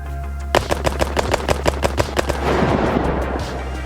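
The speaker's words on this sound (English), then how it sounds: "So if I shoot slowly, it's pretty accurate. But if I shoot faster," A G18 pistol fires in a fast, even burst of about a dozen loud, sharp shots, which then give way to a short trailing rumble. No voices are heard.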